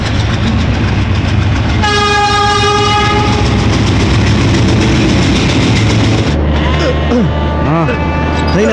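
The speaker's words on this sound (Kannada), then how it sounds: "ಟ್ರೈನ್ ಸೌಂಡ್ ಕೇಳ್ತಾ ಇದೆ ಅಲ್ವಾ?" A passing train blares a long, loud multi-tone horn over a continuous heavy rumble and clatter of wheels, with rising and falling tonal sweeps near the end as people talk over it.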